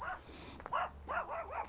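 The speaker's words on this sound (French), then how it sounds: "Bon, là, il y a un chien qui est content de me voir." A happy dog on a walking trail gives several short, yelping barks and whimpers in quick succession, fairly close, with light outdoor background noise.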